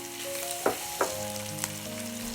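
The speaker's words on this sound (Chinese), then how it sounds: "炒锅预热，加油，补纯热，下蒜末炒香，倒入鸡爪翻炒" Chicken feet and minced garlic stir-fried in a hot oiled wok, a steady sizzle broken by a few sharp scraping clacks of the spatula, close and fairly quiet, with no talking.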